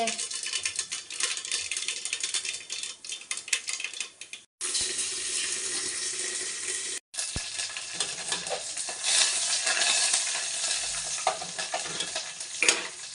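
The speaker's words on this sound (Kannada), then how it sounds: "ಇವಾಗ ಇದು ಒಗ್ಗರಣೆಗೆ ಇಟ್ಟಿದ್ದೀನಿ ಇವಾಗ ಸಾಸಿವೆ ಹಾಕ್ತಾ ಇದ್ದೀನಿ" Mustard seeds crackle and sizzle in hot oil as tempering for a fenugreek-leaf sambar, a dense, loud, continuous hiss with a couple of brief breaks and no talk over it.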